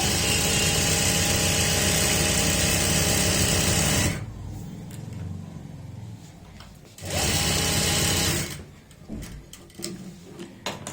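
Sewing machine running steadily while stitching a ready-made belt-style saree, a loud continuous whir that stops abruptly, restarts for a short burst, then falls quiet again.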